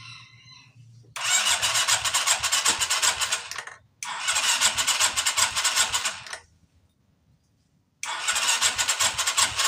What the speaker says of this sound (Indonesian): siap nyalakan motornya